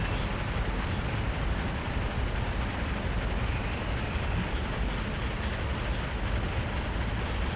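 An ES44AC diesel locomotive runs in Train Sim World, giving a steady, dense rumble and drone that stays even throughout with no breaks or talking.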